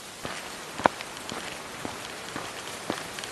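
Rain falls at night during a Kalbaishakhi storm, a faint, steady patter with scattered louder drops striking a surface here and there.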